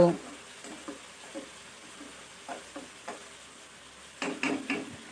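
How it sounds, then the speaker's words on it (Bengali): A utensil stirs spices frying in a pan for chicken masala, with soft scraping taps and a low sizzle, close and fairly quiet, ending in a busier cluster of stirring strokes. "এখন সব মশলা খুব ভালোভাবে নাড়াচাড়া করে মিশিয়ে কষিয়ে নিব"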